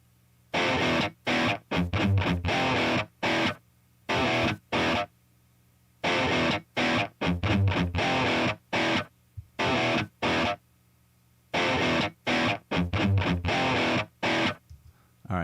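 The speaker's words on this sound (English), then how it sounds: "I'm going to bring up the white noise" Distorted electric guitar with an old-school Megadeth-style tone playing short chopped bursts separated by silences, the tone rough and fizzy with white noise added, giving a hissing noisy edge.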